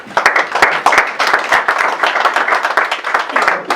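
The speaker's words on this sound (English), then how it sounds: "That wasn't quite as big a clap as before" Applause from an audience at a boxing press conference, a dense run of overlapping hand claps that stays fairly even and moderately loud throughout, with irregular sharper claps standing out.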